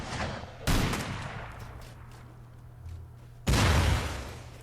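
Rockets launching and exploding during a base raid in the video game Rust, with two loud, sharp blasts a few seconds apart over a steady rumbling background.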